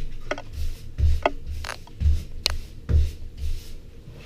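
Grout is spread and rubbed into tile seams with a float, making close, rhythmic scraping strokes with soft thumps roughly twice a second, without talk.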